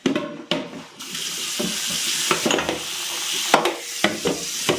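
Cold tap water gushes steadily from a faucet into a large dish, a loud continuous splashing with a few clinks of the dish, no voices.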